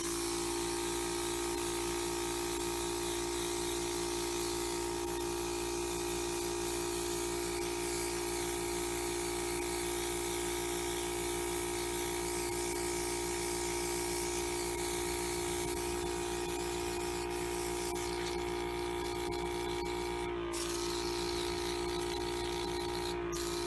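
An Elementwo Airbrush Pro System sprays makeup onto a face, giving a steady, close, continuous hiss with a faint motor hum that barely changes for over twenty seconds, broken only by a brief dip near the end.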